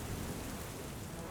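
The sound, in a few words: rain sound effect in LEGO animation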